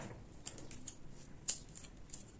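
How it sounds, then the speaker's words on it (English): Scissors cut off crochet yarn at close range in a quiet room: a few faint, sharp metallic snips and clicks, the clearest one landing midway, with soft handling noise between and no talking. "cut off the yarn"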